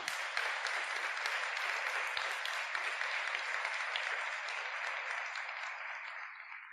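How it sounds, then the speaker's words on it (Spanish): A church congregation claps loudly and steadily for several seconds, a dense wash of applause that slowly fades toward the end. "denle un aplauso bien fuerte al Señor"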